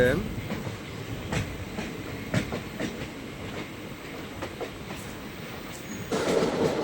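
Steady rumbling train noise with rhythmic clacking of wheels on rails, continuous throughout, with faint voices mixed into the station ambience on the Kollam–Tenkasi railway line.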